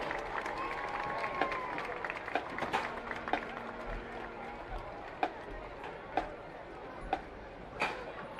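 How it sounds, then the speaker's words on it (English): Scattered applause and crowd noise in high school football stadium stands after a marching band's performance, with a murmuring background and a few sharp, evenly spaced claps or thumps standing out near the end. "give a nice round of applause for the George Washington Patriot Band"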